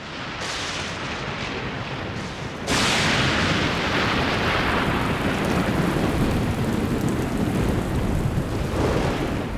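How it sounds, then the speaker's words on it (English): Heavy rain pouring down on a parched, dry plain in the wild lion country, a dense, steady roaring hiss that swells louder a few seconds in and continues unbroken. "As the downpour begins, the parched ground absorbs every drop."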